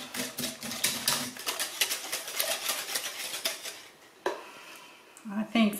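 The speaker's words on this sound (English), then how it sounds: "I'm going to stir in my 2 eggs that I've beaten up. And I'm going to whisk that pretty good." Sour cream, sugar and beaten eggs being whisked in a bowl, quick rhythmic metallic clicking and scraping up close, pausing briefly before a final few strokes.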